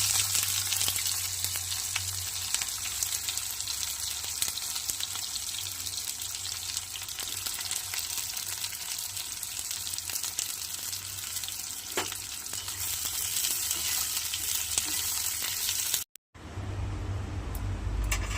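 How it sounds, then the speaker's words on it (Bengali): Onions frying in oil in a wok for birista give a steady, continuous sizzle with a constant low hum beneath, running unbroken until a brief cut near the end. "কড়াতে তেল দিয়েছি আর বিরিস্তা বানানোর জন্য"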